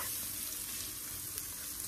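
Garlic fries on low heat with a dense, continuous sizzle, steady and close, with no talk over it.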